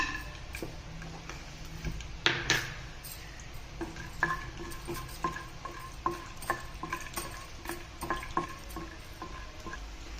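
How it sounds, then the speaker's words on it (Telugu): Peanuts frying in hot oil in a pan, crackling and popping with scattered ticks and clinks as they are stirred, steady sizzle underneath. "ప్యాన్ వేడెక్కింది ఇక నూనె పోసుకోవాలి పల్లీలు వేసుకుంటున్నా"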